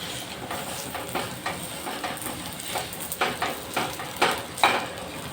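Steady sizzling of dates roasting over low heat in a pan, with repeated scraping strokes of a spoon stirring, moderately close, no voices.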